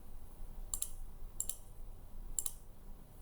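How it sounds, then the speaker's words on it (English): A computer mouse gives three crisp, faint clicks spaced irregularly over a quiet room hum. "And click on Apply."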